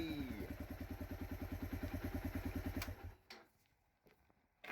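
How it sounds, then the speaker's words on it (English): A Pulse Adrenaline 125cc motorcycle engine, freshly carb-cleaned, runs at a steady, close, loud idle with a fast regular pulse for about three seconds, then cuts off into near quiet with a few faint knocks. "Engine runs spot on now."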